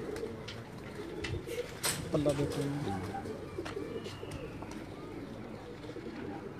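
Teddy-breed pigeons of the Babbar Sher type coo softly in a home loft, with low throaty calls rising and falling under nearby men's speech.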